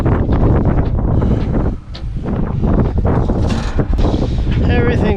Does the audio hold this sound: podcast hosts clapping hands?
no